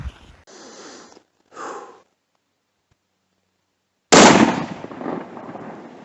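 A single loud, sharp rifle shot during a spring bear hunt in Idaho, bursting out after a long hush and ringing off into a fading echo, with a few quiet breathy sounds before it.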